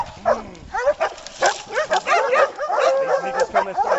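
Hunting dogs bark and yelp excitedly during a hog hunt in Tennessee, with rapid overlapping barks and whimpers, loud and close, mixed with people talking.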